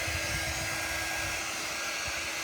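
Hair dryer blowing on thick paste laid on a reusable surface, a loud continuous close whirring roar with a steady airflow hiss, no talk.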